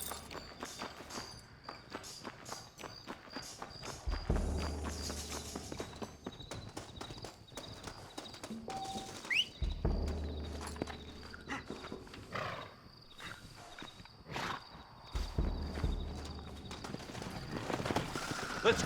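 Horse hooves clip-clop in steady rhythmic bursts in Red Dead Redemption, with heavier low thuds recurring every few seconds over a quiet ambient background.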